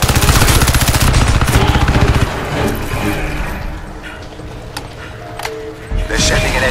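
Rapid automatic gunfire from the shooter game Crysis 3, loud and dense for about two seconds, then trailing into scattered shots and game sound effects, with voices speaking over the action.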